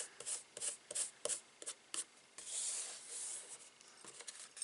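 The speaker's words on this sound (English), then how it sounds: "And then just gently rub." A paper layer is rubbed gently onto a stamped card by hand, soft close brushing strokes, first in short separate swipes and then one longer continuous rub, faint and alone.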